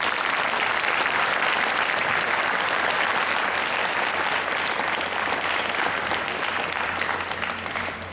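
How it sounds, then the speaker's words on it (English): A school audience at a Republic Day celebration breaks into loud, sustained applause honoring the national constitution, a thick wash of many hands clapping that eases slightly at the close. "Doesn't it deserve a big applause?"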